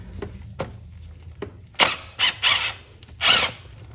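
A power tool with a Torx 30 bit drives screws on an Audi C7 A6 Quattro 3.0T during PCV valve replacement, giving several short loud whirring bursts close by, with faint clicks between them and no talk.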